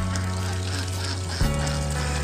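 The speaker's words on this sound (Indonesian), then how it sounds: "bebek ini" Ducks on a farm give a continuous noisy chorus of quacks, dense and close, with a sharp shift in tone midway.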